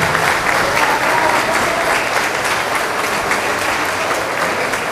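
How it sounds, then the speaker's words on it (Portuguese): A school audience gives a martial arts team a loud, sustained round of applause, dense clapping heard close and continuous throughout with no break. "uma salva de palmas para eles."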